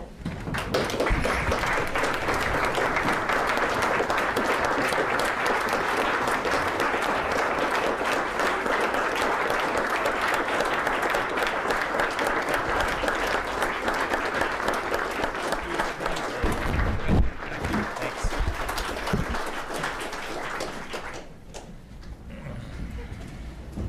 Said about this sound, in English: Thank you for that nice round of applause.